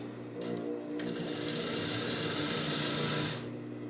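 A sewing machine runs a continuous safety stitch for an invisible zipper on a square-neck blouse, a steady close mechanical whir and hum lasting a few seconds with no speech.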